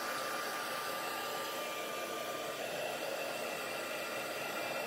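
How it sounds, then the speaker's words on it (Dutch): A hair dryer blows in a steady, even whoosh, drying paint on an art journal page, held at one spot with no pauses and no talk. "als ik nu iedere keer de föhn op één plekje zet, dan krijg je daar een droog eilandje."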